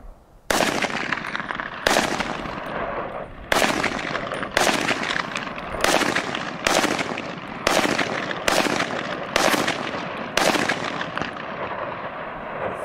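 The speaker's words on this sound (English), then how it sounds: "But yeah, we got just a couple more shots through this." Suppressed Honey Badger rifle fires about ten sharp shots at an irregular pace, each a loud close crack with a short fading tail, and no talking.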